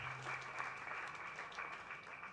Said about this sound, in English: so that you can again clap